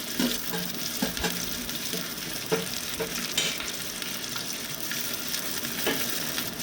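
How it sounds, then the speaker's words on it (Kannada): Chopped onion and curry leaves sauté in oil with mustard seeds and cumin in a pot for bitter gourd palya, a steady close sizzle with scraping stir strokes and occasional louder crackles throughout. "ಹೆಚ್ಚಿದ ಈರುಳ್ಳಿ ಮತ್ತು ಕರಿಬೇವನ್ನ ಹಾಕಿ ಬಾಡಿಸ್ತಾ ಇದ್ದೀನಿ"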